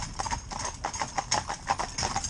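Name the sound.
horses' hooves clip-clopping, a stallion and two geldings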